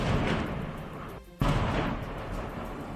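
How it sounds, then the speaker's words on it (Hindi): Bombs exploding one after another at the Azovstal steel plant in Mariupol during heavy wartime bombardment: loud, continuous rumbling blasts with a brief dip near the middle before the roar resumes. "प्लांट और उसके आसपास के एक बड़े इलाके में एक के बाद एक कई बम तेज धमाके के साथ फटते नजर आए।"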